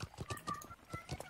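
Horse hooves clip-clop in the medieval video game Life is Feudal, a quick uneven run of hoof strikes with faint battle noise and distant talk mixed underneath.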